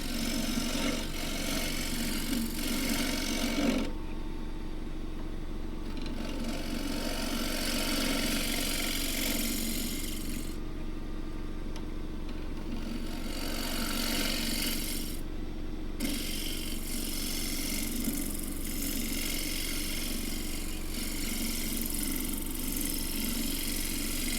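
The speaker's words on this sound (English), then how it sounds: "it's going to be easier to get round with a scraper" A 3/4 inch asymmetric round nose scraper cutting a wooden ladle on a lathe, a continuous close rasping hiss over the low hum of the running lathe, fading briefly at intervals as the tool lifts away.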